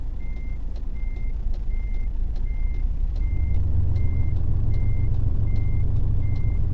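A Mercedes Antos truck in American Truck Simulator reverses with a steady, evenly spaced beeping alarm over the deep drone of its engine, which grows louder partway through.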